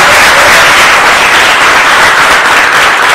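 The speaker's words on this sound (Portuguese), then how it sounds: "salva de palmas para Jesus, porque ele nos ajuda." Loud, dense applause from a church congregation, a continuous wash of clapping at close range that carries on steadily throughout with no talk over it.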